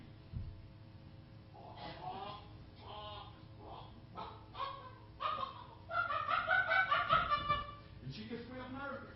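A nervous hen makes a run of harmonic, rising clucks and calls over a low hum, faint at first and growing louder and busier toward the end.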